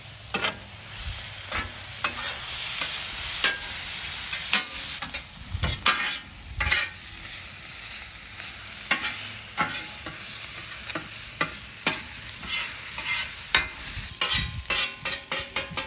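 Onions sizzle on a griddle over a live wood fire in Santa Maria style, with a steady frying hiss broken by repeated scraping and stirring strokes of a spatula.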